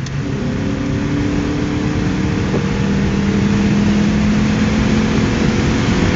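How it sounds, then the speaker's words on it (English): A BMW R50 motorcycle engine pulling at full throttle in third gear, a loud, steady, close engine drone with a slowly rising tone over a few seconds, buffeted by wind, with no voices. "Third gear, full gas. Again, full gas."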